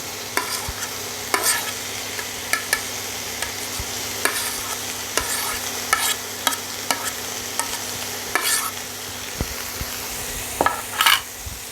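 Chopped tomato and capsicum frying in a pan for a sweet corn and cheese sandwich, a steady sizzle broken by frequent sharp clicks and scrapes of a spatula stirring against the pan.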